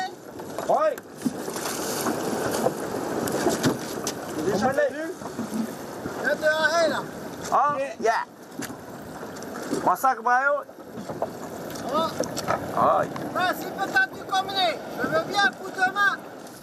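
A small fishing boat's engine and wind rumble steadily on open water off Tahiti, French Polynesia, with voices calling intermittently over the noise.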